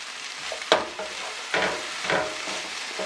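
Savoy cabbage in a meat-free stir-fry crackles and sizzles in a pan at moderate volume, with a few louder tossing bursts over a steady fry and no talking.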